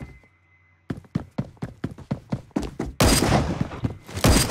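Gunfire in the Phantom Forces video game, a quiet lull followed by a run of sharp evenly spaced shots, then a dense loud burst of rapid fire near the end.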